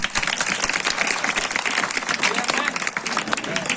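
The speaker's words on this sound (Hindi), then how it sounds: "ताली बजाएंगे लोगों की" Congregation clapping during a Hindi church sermon, a continuous dense rattle of many hands filling the whole stretch, with voices mingled in the crowd noise.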